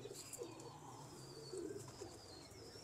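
Pigeons cooing softly nearby, a few low throaty coos repeating in short bursts over faint background hiss, with light chirping, fairly quiet.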